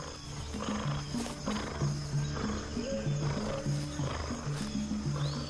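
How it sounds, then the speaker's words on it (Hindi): A tiger, the largest of the big cats, roars over a steady bed of background music, with the roar blending into the continuous sound. "बाघ बड़ी बिल्लियों में सबसे बड़ी प्रजाति, ये एकाकी रहना पसंद करते हैं।"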